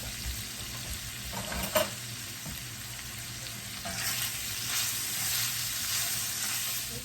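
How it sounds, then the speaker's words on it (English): A pat of butter melting into sausage grease in a pan: steady hissing sizzle throughout, with one sharp tap early on and a slightly louder frying surge toward the end. "I'm going to put a little pat of butter in there. Let that melt down."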